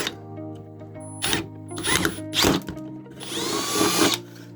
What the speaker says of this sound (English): Sometimes drilling plastic, it bites a little hard there going in first.